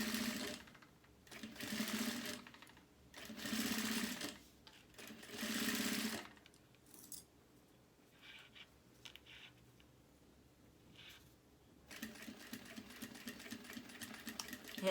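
A sewing machine stitches straight along the edge of fabric for a notebook sleeve in quiet, close bursts of rapid whirring, pausing between runs with soft handling noises.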